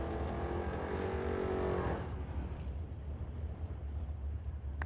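Drag racing cars, among them a 1976 Mustang, launch with a loud engine roar that cuts off abruptly after about two seconds, leaving faint rumbling background noise.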